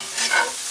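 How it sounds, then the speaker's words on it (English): Steak and peppers stir-fry in a hot pan, giving a close, steady sizzle with a brief swell of spatter as the food is moved, alone without talk. "Stir fry until the meat is no longer pink."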